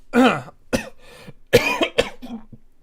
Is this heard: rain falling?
no